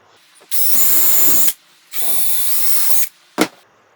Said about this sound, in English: put a piece of scrap on the backside as you drill through, just to avoid any tear out